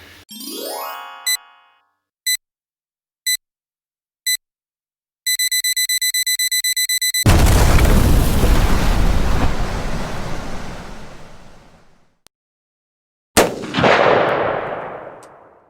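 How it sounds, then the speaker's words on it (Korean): A toilet is flushed again and again during tile grouting preparation. Two rushing flushes surge loudly and drain away, the second cut off short, after a run of sharp electronic beeps and tones. "지금 보시면 이런 식으로 이제 물기를 제거를 한 상태에서 물을 계속 내리는 겁니다"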